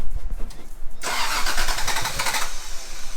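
A Toyota Supra rally car engine cranks briefly and then catches, roaring into a loud, rough idle that carries on steadily to the end.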